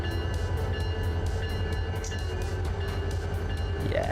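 Slow-rolling train in the Run 8 train simulator game, a steady low rumble of rail wagons rolling along at walking pace, continuous and fairly close with faint metallic squeals and a brief rising tone near the end.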